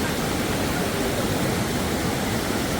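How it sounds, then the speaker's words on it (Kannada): Rushing water of Hosgod waterfall roars as a dense, continuous wash of noise, loud and close throughout, with no voices or other sounds breaking through. "water falls"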